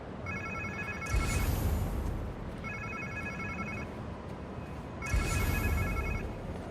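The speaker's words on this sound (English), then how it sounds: "Sounds like somebody's phone." Electronic phone ringtone trilling in repeated bursts in Marvel's Spider-Man 2, three rings about two seconds apart over a low rumbling background.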